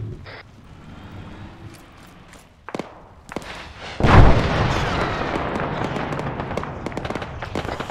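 A tandem rocket striking a BMP armored vehicle in ARMA 3: a few scattered pops and thuds, then a heavy close explosion boom followed by a long crackling, rumbling tail of debris and fire.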